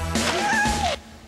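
A house cat in a comedy movie trailer lets out a single drawn-out meow, close and clear, lasting under a second with nothing else around it.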